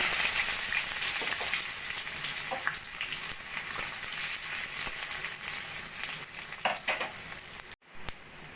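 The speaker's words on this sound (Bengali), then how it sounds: "রসুনটা এক মিনিট মতো ভেজে নিয়ে" Seven or eight chopped garlic cloves frying in hot oil: a steady, close sizzle with occasional light stirring that continues almost without a break, apart from a short dropout near the end.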